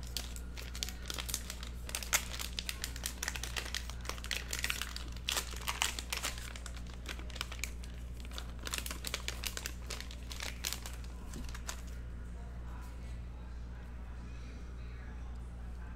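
A foil wrapper on a 2019 Upper Deck Gold Rush hockey card value pack is crinkled and torn open, giving close, busy crackling and rustling for most of the stretch before it settles into quieter handling.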